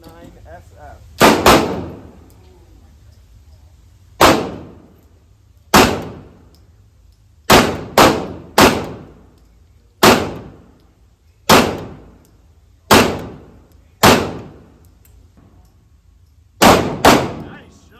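A Canik TP9 SF 9mm pistol fires about a dozen sharp, loud shots, spaced irregularly as singles and quick pairs, each with a short ringing decay outdoors.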